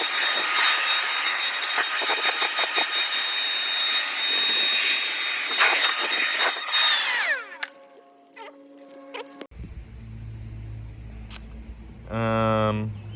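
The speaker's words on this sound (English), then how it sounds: "Gonna use a leaf blower to get on any residual" Leaf blower blasting residual rust off a 1974 Oldsmobile Toronado, a loud steady broadband roar for about seven seconds that winds down, followed by quieter clattering and a low hum.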